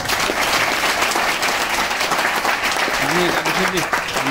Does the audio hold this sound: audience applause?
yes